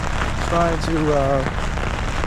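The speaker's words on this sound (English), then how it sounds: "It's raining like crazy" Heavy rain drums steadily on a car outside a sporting goods store, a continuous dense wash throughout, with a voice speaking briefly over it.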